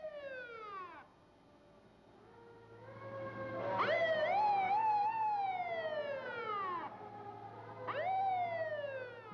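Water rescue truck sirens rise and fall in repeated wailing sweeps, several overlapping, getting louder as the vehicle approaches over a low engine hum.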